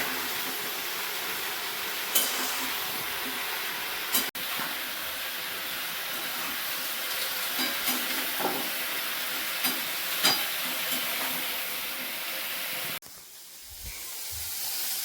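Bitter gourd and potatoes fry in a pan during home cooking, giving a steady close hiss and sizzle with a few soft clicks and knocks, until the sizzle drops away near the end.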